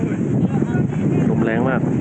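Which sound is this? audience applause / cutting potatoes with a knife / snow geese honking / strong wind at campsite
strong wind at campsite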